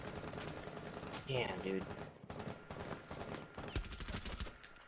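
Video game gunfire in a multiplayer match, a quick burst of shots and a loud crack near the end, heard under excited players' voices.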